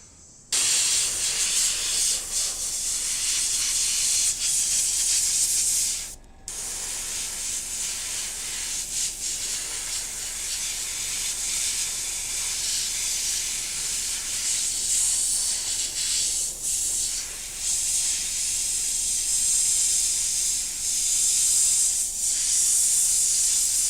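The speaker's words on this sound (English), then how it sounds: "I knew I had a lot of airbrushing to do" Airbrush spraying paint onto hobby miniature models, a steady close hiss of air and paint that runs almost continuously, broken once by a brief pause, with no talking.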